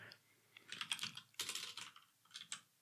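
C code is typed on a computer keyboard in quick, soft clusters of keystrokes with brief pauses, close but fairly quiet.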